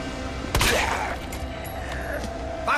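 Gunfire in the Resident Evil 2 Remake video game: one sharp loud shot near the start, followed by ringing and scattered softer mechanical noises over steady game ambience.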